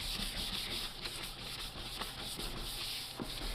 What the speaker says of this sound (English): then you guys just start sanding it down